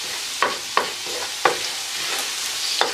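Spoon stirring a Guyanese food mixture in a pot on the stove, giving four or five distinct scraping strokes at an uneven pace over a steady background sizzle, close and fairly quiet, with no talking.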